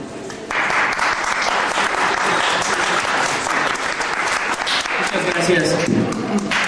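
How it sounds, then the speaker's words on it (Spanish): An audience at a human rights forum in Mexico City breaks into sustained applause, a dense, loud and steady clapping that carries on with some voices mixed in. "para que pida un aplauso"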